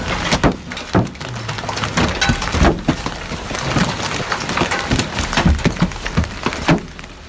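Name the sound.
hailstorm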